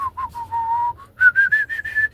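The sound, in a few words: person imitating whistling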